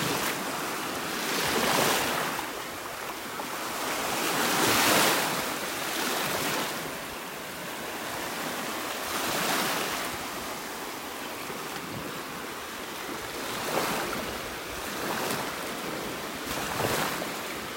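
Ocean surf rolling onto a quiet morning beach in North Naples, Florida, with broad hissing wave washes swelling and fading every few seconds, loud and continuous with wind and no voices.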